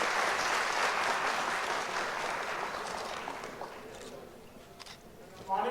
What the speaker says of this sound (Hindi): जोरदार ताली बजाकर उनका स्वागत करें।